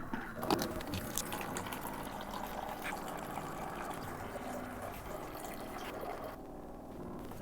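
Water drains from an appliance's tank in a steady low splashing trickle, faint and continuous, with no talking.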